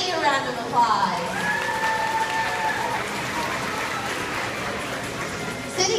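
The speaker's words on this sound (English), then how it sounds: "let's give Jetty a round of applause" Steady, fairly loud audience applause at a California sea lion show in the Foxwoods Marine Theater, following a performance by the sea lion Jetty, with a high whistle-like tone gliding above the clapping.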